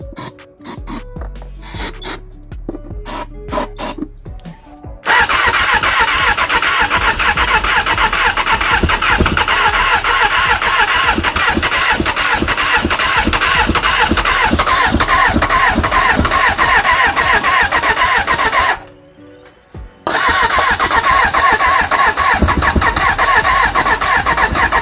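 A Suzuki Bandit 600 motorcycle engine cranks after a carburetor clean, with several short stuttering bursts first, then a long loud stretch of rhythmic churning, a brief silence, and the churning again.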